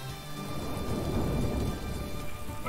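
Steady rain and rolling thunder from a stormy weather scene in the video game Atelier Ryza 2, a continuous dense downpour with low rumbling throughout, no voices.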